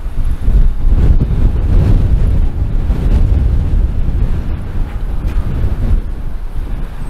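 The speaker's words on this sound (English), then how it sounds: "So today is a very cold and windy day" Strong cold wind at 50-70 km/h and -20°C blasts across an outdoor microphone, making a loud, continuous low buffeting roar that gusts and eases slightly with no voices.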